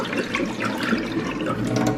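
Water drained off soaked, washed lentils, a steady close pouring and splashing stream that lasts briefly with no voices.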